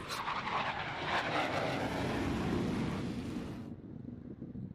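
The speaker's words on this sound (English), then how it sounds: "the skies over Lemoore echo with the deafening roar of fa-18 jet fighters" F/A-18 jet fighters over Lemoore, heard as a broad, rushing roar that swells and sustains for a few seconds before cutting off, loud and distant-sounding with wind-like texture.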